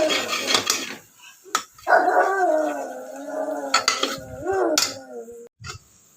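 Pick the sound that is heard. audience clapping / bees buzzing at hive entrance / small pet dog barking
small pet dog barking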